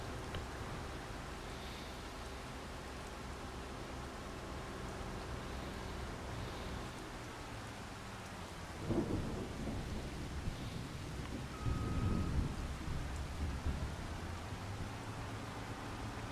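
Steady rain with rolling thunder rumbles in the Farming Simulator 25 video game, a continuous wash of rainfall under two louder low thunder swells partway through, no talking.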